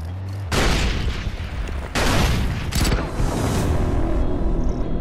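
Grenade explosions in the Far Cry 4 video game: three loud, close booming blasts in quick succession, each followed by rumbling debris and gunfire.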